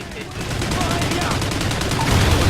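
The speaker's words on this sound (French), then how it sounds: "Je veux quelqu'un derrière cette mitrailleuse, vite!" Sustained rapid machine gun fire in the Call of Duty Ghosts campaign, loud and close with a steady fast rhythm of shots running throughout, heavy battle noise underneath.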